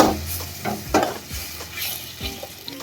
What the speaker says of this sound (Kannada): ಮೊಸರು ಹಾಕೊಂಡು ಇದನ್ನು ಫುಲ್ ಫ್ರೈ ಮಾಡ್ಕೊಳ್ಳೋಣ್ರಿ